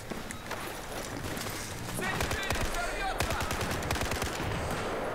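Gunfire in the video game Battlefield 4, a dense burst of rapid automatic shots for a couple of seconds amid battle noise, with players talking throughout.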